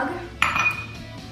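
Metal measuring spoons, a mug and a fork clink together in a kitchen while dry ingredients are readied for an edible confection, one bright clatter followed by a short ringing tail and a few softer taps.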